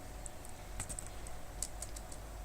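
Typing on a computer keyboard, a handful of quiet, close key taps spaced unevenly over a low background hum, with no voices.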